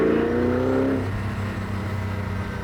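A Koenigsegg CCX supercar engine on the move, a loud close drone whose pitch slides down after about a second, then settles into a steady low rumble inside the car.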